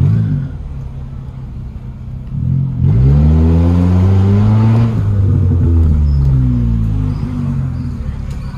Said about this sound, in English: You know, this car actually burbles.